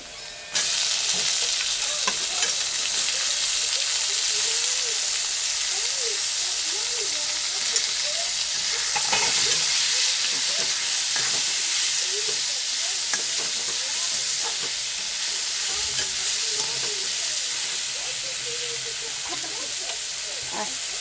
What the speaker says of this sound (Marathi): आता कांदा फ्राय झालेला आहे याच्यामध्ये टमाटर टाकते